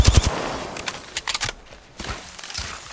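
Gunfire in the Apex Legends battle royale game, rapid close bursts of automatic weapon shots in quick clusters separated by brief gaps, with a few scattered single reports.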